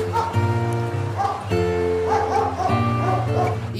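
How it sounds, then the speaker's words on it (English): Dog barks and yips, a few close, loud calls heard over a steady musical backing in a children's phonics song. "D for dog. D for dog."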